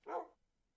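A single short dog bark from a Minecraft game, clear and fairly close, lasting under half a second before fading to near silence.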